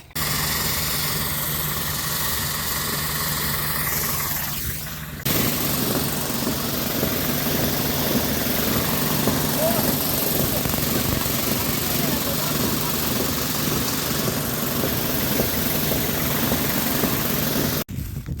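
A tractor engine running at a farm plot, brought in for field clearing: a continuous low rumbling drone with a brief dip after a few seconds, and voices faintly audible beneath it.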